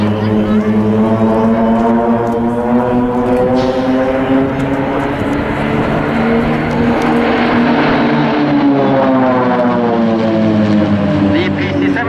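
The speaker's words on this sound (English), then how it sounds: "The PC-7 team, with its 9 Pilatus PC-7 turboprop aircraft, is the biggest propeller aircraft team in the world." Formation of nine Pilatus PC-7 turboprop aircraft passing overhead at an air show, a loud continuous propeller drone whose pitch rises then falls as they sweep past.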